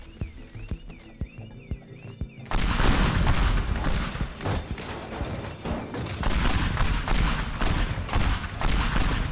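Pipe bombs exploding in Teardown, a sudden loud blast after quiet clicking, then a dense run of repeated booms and crackling debris rattling on and on.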